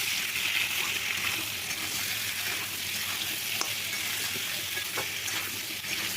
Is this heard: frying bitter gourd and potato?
yes